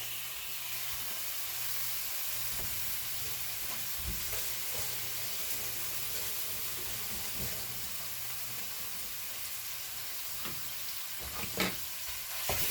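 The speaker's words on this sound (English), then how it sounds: "Now I'm going to brown up 1 pound of ground beef" One pound of ground beef browns in a frying pan with a little leftover bacon grease, giving a steady, close sizzle with occasional soft stirring scrapes and no talk.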